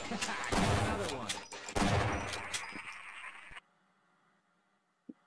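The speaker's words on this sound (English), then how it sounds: "Did you shoot at me?" Dense automatic gunfire bursts in Half-Life 2 Episode 2, with a clear break partway, then silence broken by a single faint click near the end.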